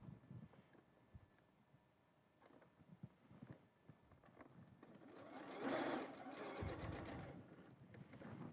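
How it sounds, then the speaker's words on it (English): A sewing machine stitches quilt pieces in a steady, moderately loud run that rises toward the middle and then continues, with quiet handling noises before it starts. "So here's the half I just sewed."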